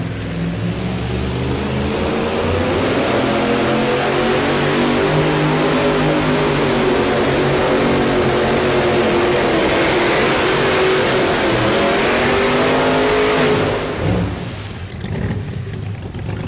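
Two-wheel-drive pulling truck on a sled pull run, its engine roaring loud and sustained with rising revs for about thirteen seconds before abruptly dropping off.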